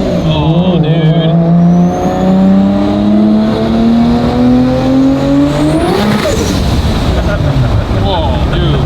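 A Dodge Dart with a 1500HP 3.2L 2JZ stroker engine on 40 psi boost roars as it accelerates hard, the engine pitch climbing steadily through a gear before shifting, loud and close, with excited voices over the roar.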